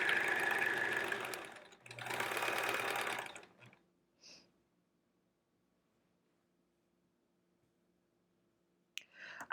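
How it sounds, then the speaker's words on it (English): A sewing machine stitches along one edge of a triangle quilt in two short, close runs of whirring, followed by a long silence and a faint click at the end. "right now I am only sewing the one side"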